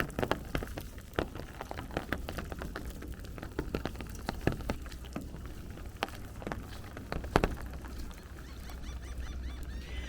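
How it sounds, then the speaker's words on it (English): Rainwater drips and splatters off the Parachute Jump at Coney Island, Brooklyn, during heavy rain: a steady close patter with scattered sharper drops and no voices. "That is water coming off of the parachute jump."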